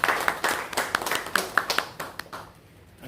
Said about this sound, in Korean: 박수로 합니다